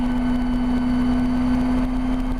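A Rotorway kit helicopter engine hums at a steady, close, loud drone as the aircraft settles onto the ground, with no voices over it.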